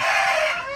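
A Plucker mix BK Selatan rooster crows in a single loud, close, sustained call heard alone without any talk.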